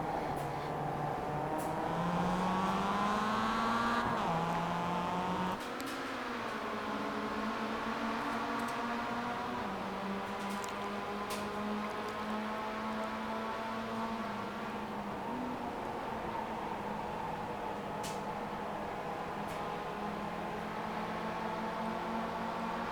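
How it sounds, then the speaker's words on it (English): An official Porsche safety car in the iRacing game at Tsukuba drones steadily as its engine hums at a fairly constant pitch, with a couple of gear shifts and rising tones, quiet and continuous. "There's a pace car, official Porsche safety car for iRacing."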